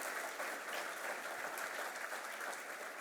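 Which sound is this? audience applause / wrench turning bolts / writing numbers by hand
audience applause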